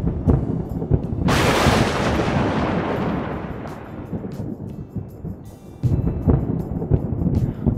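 A loud crack of thunder bursts out and rolls away into a long rumble, with steady rain hissing throughout and another rumble building near the end.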